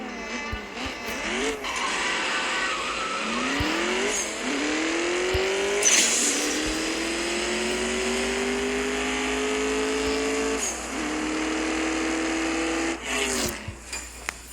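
Racing car engine from a video game race featuring an Alfa Romeo and a Goliath, a continuous loud high-revving whine that climbs through the gears in repeated sweeps, with brief dips at shifts and scraping rasps.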